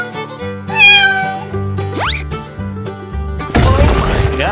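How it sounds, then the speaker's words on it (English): A cat in a 3D animal slide video game meows several times in rising, wavering calls over looping game music, ending in a louder burst of crashing noise. "Cat."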